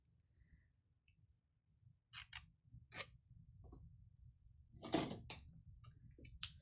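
Quiet handling of scissors, with a few sharp snips and clicks scattered against a faint low hum, close and isolated.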